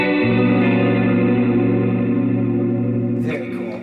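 An electric guitar chord rings out through a HandleBox pedal set to heavy reverb, sustaining in a long, dense wash before a fresh attack near the end as the tail fades.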